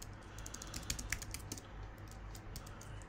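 Quiet typing on a computer keyboard, a scatter of soft, irregular key clicks over a low steady hum, with no talking.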